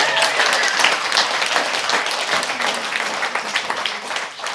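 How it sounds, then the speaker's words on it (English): Audience applauding at a 2022 regional short-term rental conference, a steady dense wash of clapping held at an even loudness throughout with no voices. "Give him a round of applause."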